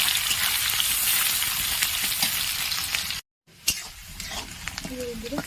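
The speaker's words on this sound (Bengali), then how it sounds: "পেঁয়াজগুলোকে লাল লাল করে ভেজে নেবো।" Chopped onions fry in hot oil for a mutton and potato curry, a steady close sizzle with faint stirring scrapes, cut by a brief gap before the crackling resumes with occasional clinks.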